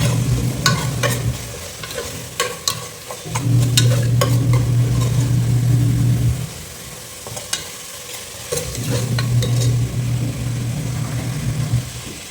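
Onions frying in a pan with cinnamon, cloves and cardamom for beef biryani, a close steady sizzle broken by bursts of stirring and scraping, with a faint low hum running in stretches.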